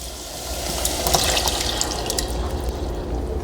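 Canned diced tomatoes pour from a 28-ounce can into a pan of cooked onions, giving a steady wet splashing and glugging that runs throughout, close and unbroken.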